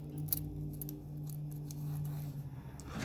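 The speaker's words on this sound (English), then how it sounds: "let's try folding the ratchet and seeing what that looks like" A Tekton folding ratchet is folded, giving a few faint, sharp metallic clicks over a quiet, steady background hum.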